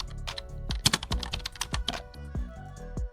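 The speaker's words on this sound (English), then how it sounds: "hit enter on your keyboard and wait for some time" Rapid typing on a computer keyboard, close and crisp, a flurry of sharp key clicks and thumps in an uneven rhythm, with heavier strokes scattered through, no voices.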